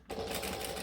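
A sewing machine starts abruptly and runs at a steady clip while back stitching a bag, loud and close for under a second.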